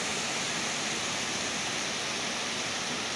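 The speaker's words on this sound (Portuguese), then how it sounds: "Olha o tanto de água na rua." Rainwater rushing down an inclined street in Samambaia Sul, Brasília, during a heavy downpour, a steady broadband wash of flowing water that stays constant and fairly loud throughout with no talk.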